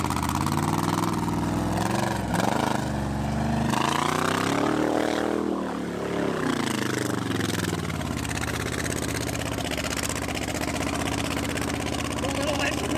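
The engine of a 1956 Pontiac 3/4 ton mud truck runs loud and rough, its revs rising and falling before it settles into a steady idle, with voices talking over it.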